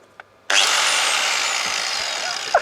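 Loud power grinder on a commercial electrical job site, switching on abruptly and running as a steady, continuous whine that holds close and strong for the rest of the clip.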